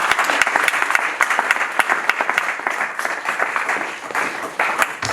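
A church congregation applauds and cheers in praise of God, with dense, sustained clapping from a large crowd filling the room and a few voices rising above it.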